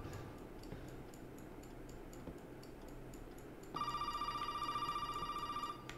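A telephone in the hallway of a house in the video game Resident Evil 7 begins ringing partway through with a bright, repeating electronic trill, rising over a low, steady ambient hum.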